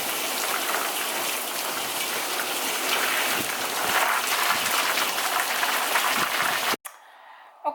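Steady rain falls in Tenerife as a dense, loud, even hiss of drops on surfaces, continuing without a break until it cuts off abruptly near the end.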